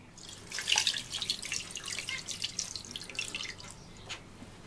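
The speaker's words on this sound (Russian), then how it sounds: "И заливаем водой." Water pours into the pot of a multicooker-pressure cooker as boiled tongue is prepared, a close, continuous splashing trickle with small drips and no talk.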